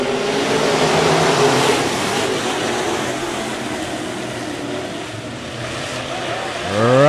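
B-Modified race cars roar off the green flag start at Rapid Speedway, a loud, steady wall of engine noise from the pack with a rising rev sweeping in near the end.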